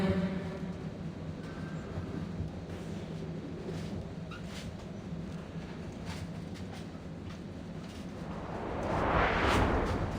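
Continuous train ride ambience from the video game Reverse 1999: a low rumbling rail drone with faint rattles, swelling into a louder whoosh near the end.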